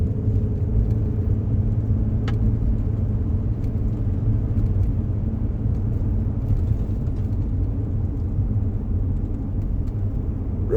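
Steady low engine and tire rumble from a car cruising a smooth paved road through Chiricahua National Monument at roughly 35 mph, a constant close drone with faint higher road hiss and no voices throughout.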